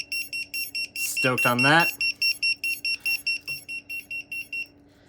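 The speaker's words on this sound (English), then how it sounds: "And the beeper, I got it working. Nice and loud." A loud, rapid run of short, high electronic beeps from an FPV drone's beeper, repeating steadily and briefly overlapped by someone speaking.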